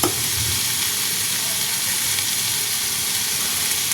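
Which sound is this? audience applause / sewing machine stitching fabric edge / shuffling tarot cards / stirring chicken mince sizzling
stirring chicken mince sizzling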